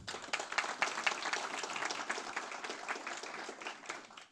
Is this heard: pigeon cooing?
no